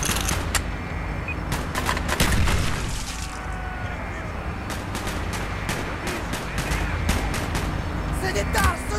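Rapid bursts of gunfire crackle repeatedly over a rumbling battle din in Call of Duty: Black Ops, with shouting voices in Russian mixed in throughout.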